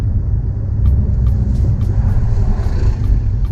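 A BMW M4 engine drones steadily from inside the car while driving, a loud, continuous low rumble with road noise and no talking.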